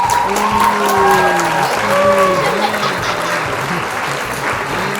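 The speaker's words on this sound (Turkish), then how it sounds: "Ada'ya kocaman alkış istiyoruz" Clapping for a child named Ada during a family game, continuous and fairly loud, with voices and laughter running over it throughout.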